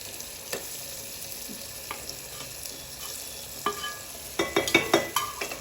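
Vegetables with cashews, capsicum, tomato and onion stirred in a frying pan for a jowar methi handi, a steady soft sizzle with scraping spoon strokes that grow louder and clatter in quick bursts toward the end.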